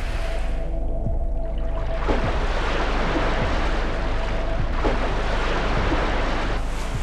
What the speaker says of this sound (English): The waves are especially strong when they break on the tripod.